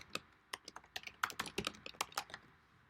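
Quiet, irregular keystrokes on a computer keyboard, tapping in quick bursts with short pauses, close and alone with no voices.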